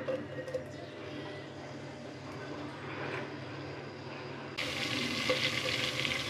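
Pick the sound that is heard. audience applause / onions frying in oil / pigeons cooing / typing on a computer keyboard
onions frying in oil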